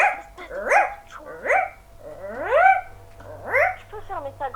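A dog barks and yelps in quick, high, excitable bursts, close and loud, several rising whining barks in a row indoors.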